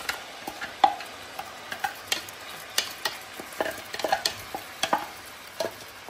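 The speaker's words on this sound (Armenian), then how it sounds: "Ու պետք է սոխը տապակի։" Onion fries in olive oil in a pan, giving scattered light crackles and pops over a faint steady sizzle, with no talk.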